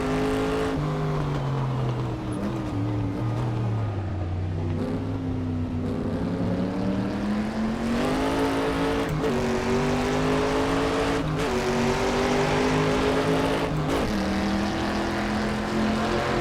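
A 1960s Sunbeam Tiger MkII race car in a racing video game at Laguna Seca, its engine droning steadily and loud, the pitch climbing and dropping through gear changes and corners with no pauses.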